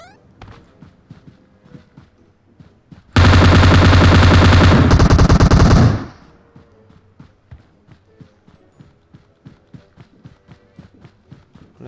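Rapid automatic gunfire in a PUBG battle-royale match, a loud sustained burst of about three seconds, with footsteps tapping steadily before and after it.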